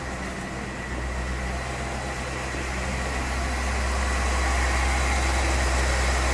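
A 1979 Pontiac Grand Prix with a factory four-speed and very low original mileage idles steadily, a deep, even engine rumble heard close and alone, growing slightly louder over the span.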